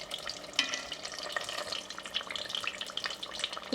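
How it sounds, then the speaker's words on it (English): Meat samosas frying in hot oil in a home kitchen, a soft, steady crackle and fizz running continuously at a low level with no voices. "If it starts sizzling too hard, you can turn down your heat slightly."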